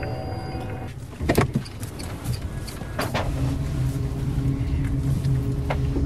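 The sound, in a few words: Renault Zoe electric car driving quietly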